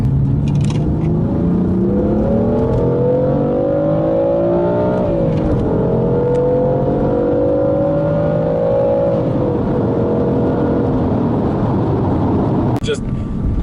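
A 480-horsepower 2015 BMW M3 in Sport Plus mode accelerates on the road, its engine note climbing through rising, falling and rising sweeps of revs. The engine is loud and steady from inside the car, with someone talking over it.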